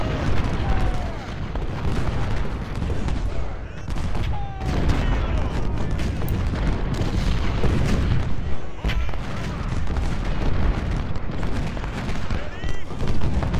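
Artillery cannons in Ultimate General: Civil War boom repeatedly and heavily over dense battlefield gunfire, a continuous loud barrage with someone talking over it.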